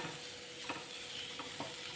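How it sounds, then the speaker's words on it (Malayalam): Grated coconut roasts in a pan with a steady low sizzle, a spatula scraping and stirring a few times, close and quiet with no talking. "ഇനി അതേ പാലിൽ തന്നെ ഒരു കപ്പ് തേങ്ങ ചേർത്ത് കൊടുക്കാം ഇതും നന്നായിട്ടൊന്ന് വറുത്തെടുക്കണം"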